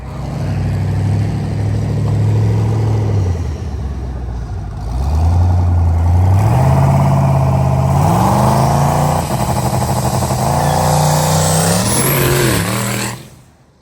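A Tahoe's 4.8 V8 engine with a twin-turbo kit, running poorly and needing tuning, revs up in rising surges, loud and close, climbing in pitch several times before cutting off.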